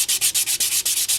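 Wet sandpaper rubs back and forth over a polymer clay faux stone piece in quick, even strokes, about eight close rasping passes in a steady rhythm.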